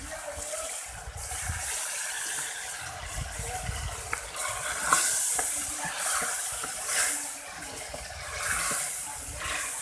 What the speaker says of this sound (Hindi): लाल मिर्च, अच्छे से मिक्स करेंगे। थोड़ा सा पानी डालेंगे।